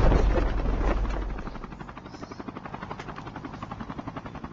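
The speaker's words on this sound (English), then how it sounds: "Chopper's on the ground." A video-game helicopter sits on the ground, its rotor loud at first, then settling into a steady rhythmic chop that carries on alone.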